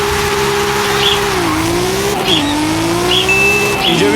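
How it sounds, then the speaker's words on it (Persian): A BMW M3 GTR Need for Speed edition in the Forza video game accelerates hard, its engine note rising and dropping through gear shifts, loud and continuous, with brief squeaky tones over the roar. "این شما و این بی ام دبلیو نیت فور اسپید توی فورزا"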